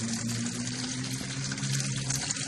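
Water from a hose filling a Poseidon 4 vortex-style hurricane compost tea brewer, 32-gallon size, a steady close rushing gush with a low pump-like hum underneath, continuous and without talk.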